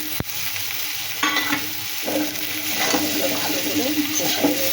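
Cauliflower florets seasoned with turmeric and salt sizzle steadily in a hot pan, with a spoon stirring through and a voice briefly talking over the frying.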